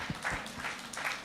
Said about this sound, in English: I think this needs an applause.